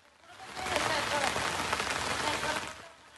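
Heavy monsoon rain falls during flooding in Feni, Bangladesh, a dense steady hiss of rain on surfaces that swells in, holds for a few seconds and fades at the end.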